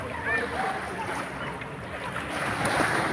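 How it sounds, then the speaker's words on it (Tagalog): A banana boat out at sea off Balaoing Beach in Pangasinan, heard faintly through steady wind buffeting the microphone and washing surf, with distant voices and a whistle-like cry drifting across the water. "Banana boat"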